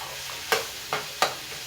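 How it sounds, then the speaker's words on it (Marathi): Three sharp scraping clacks of a utensil stirring Bombay duck fish frying in a pan, spaced unevenly over a soft steady hiss. "भाजल्यानंतर हे जरा चांगलं हलवायचं"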